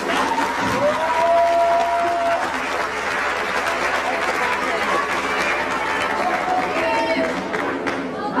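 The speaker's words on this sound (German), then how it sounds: "kräftiger Applaus" An audience at a rock and roll dance competition in Wels claps vigorously and steadily, with crowd chatter, cheers and voices mixed into the loud, sustained applause.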